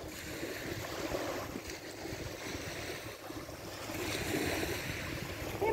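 Steady roar of sea waves washing onto a beach, with gusts of wind buffeting the microphone throughout.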